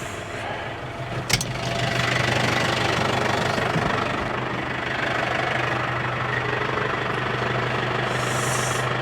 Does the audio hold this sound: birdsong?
no